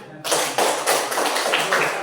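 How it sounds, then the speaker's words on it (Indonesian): A classroom group claps their hands together in a dense burst of applause, with rhythmic surges of clapping lasting about two seconds. "Kita tepuk tangan dulu."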